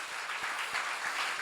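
An audience at a church sermon applauds in a dense, steady wash of clapping that holds at an even level throughout.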